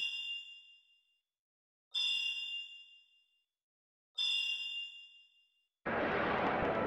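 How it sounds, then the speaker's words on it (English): Small jingling bells carried by enemy troops in the Breath of Fire IV video game ring in three separate bright chimes about two seconds apart, each fading out, followed by a burst of dense noisy sound at the end. "His friends have little jingly bells."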